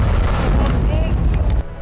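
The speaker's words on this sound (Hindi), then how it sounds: "जोरदार धमाके की आवाज आई" A loud, heavy grenade explosion against a tank booms with deep low-end energy, sustained and rolling before cutting off abruptly near the end.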